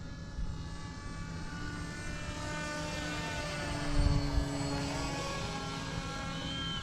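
A Skyhawk V2 940mm RC model airplane with an electric propeller motor flies overhead, its engine whine steady and continuous with gently shifting pitch, with no speech.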